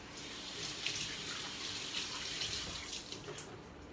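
Hands are washed under a running tap in a kitchen during salsa preparation, a steady, fairly soft hiss of flowing water with small splashes and no talk.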